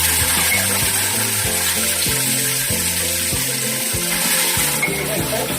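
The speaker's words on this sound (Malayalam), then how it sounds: "നമുക്കിനി അടുത്തത് നമ്മുടെ ബീഫും കൂടെ വറുത്ത് കോരാം" Beef pieces, about two kilos, frying in hot oil in a large pan, giving a steady loud sizzle and crackle throughout with low thumping handling noises underneath, no talk.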